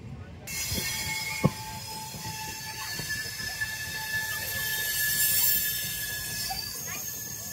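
A passenger train at platform 4 on the Prayagraj Sangam to Basti route, train number 14231, with a steady rumble, squealing wheels and a sharp clank. Rail hum carries through, and faint voices sit in the background.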